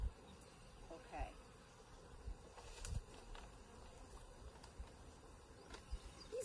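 Honeybees buzz faintly at a hive frame, a low continuous hum with occasional closer passes and small knocks.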